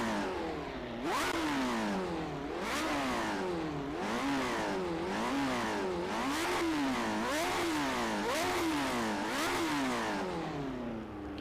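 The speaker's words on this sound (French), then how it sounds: "vous avez écouté le son de ce moteur, burner un peu là, accélération" Lotus 78 Formula 1 racing car engine revving hard through repeated rising and falling acceleration sweeps during a burnout, loud and close with no talking, the pitch climbing and dropping in a steady rhythm across the whole stretch.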